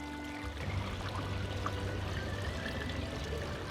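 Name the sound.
pouring limoncello lemon liqueur into a bottle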